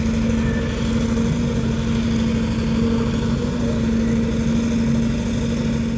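A soil-lifting machine's engine runs steadily at a constant drone, loud and close with a strong fixed hum, no change in pace throughout and no voices.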